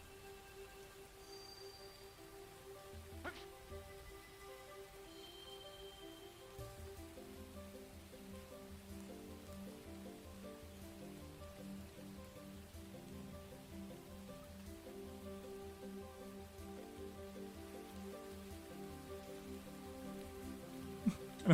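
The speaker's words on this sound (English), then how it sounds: "Piccolopedia theme with rain" Steady rain patter runs under the Piccolopedia theme from Pikmin, whose melody of repeating tonal notes enters and fills out after the first few seconds at a soft, even level with no talking.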